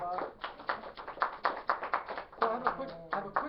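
An audience gives a quick round of applause, with rapid, fairly faint claps running under a person's continuous talk.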